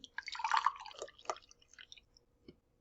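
Fresh lemonade syrup poured into a measuring cup gives a short, quiet run of wet dripping and splashing that tapers off, followed by one faint final drop.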